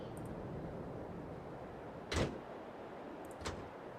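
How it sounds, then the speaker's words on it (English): A Katana 850 cab door in Farming Simulator 22 makes two separate clunks about a second apart, one opening and one closing, each preceded by a faint click. The first is louder than the second. "You have a sound scheme, obviously, for the door opening and closing here."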